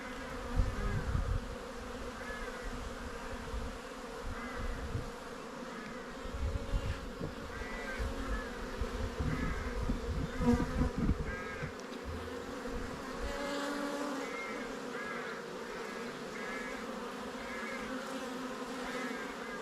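Steady, dense buzzing of many bees around a hive during an inspection, close and continuous, with the hum swelling and easing slightly throughout.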